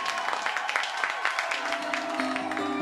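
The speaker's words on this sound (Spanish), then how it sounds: "La gente del pueblo lo recibió con un cálido y fuerte aplauso." Villagers in an animated short burst into warm, loud applause, a dense patter of many hands clapping continuously at close range.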